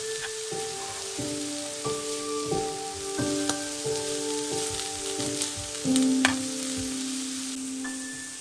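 Shredded cabbage and leeks frying in a pan, a steady soft sizzle and crackle under sustained gentle music tones.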